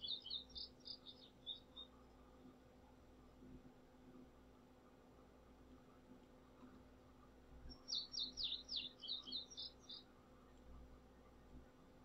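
Two short bursts of high, rapid bird chirping stand out over a faint, quiet outdoor ambience with a low steady hum. One trill comes at the start and another arrives several seconds later.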